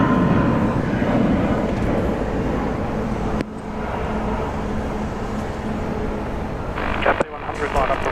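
A Jetstar jet airliner takes off from Sydney International Airport for Melbourne, a loud, steady broadband roar that holds throughout with a slight shift partway, heard from a spotting position, and a voice is faintly present.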